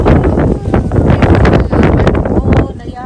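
Strong wind buffets a microphone outdoors in a garden of potted plants, a steady loud rush with gusty surges and rustling throughout the short stretch.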